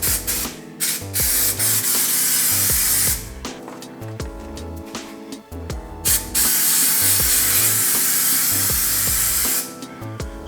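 Loud, close bursts of spray adhesive hiss from a can onto a car headliner, in several long sprays broken by short pauses, with a pulsing musical backing underneath.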